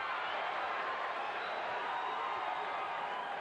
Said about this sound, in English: Crowd getting excited about a Kelley left